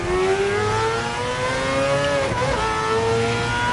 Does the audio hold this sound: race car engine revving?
yes